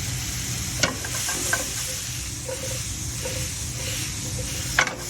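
Pearl onions sizzling in a hot pan for a French dish, a close steady hiss with a few sharp crackles and light scrapes, and no voices.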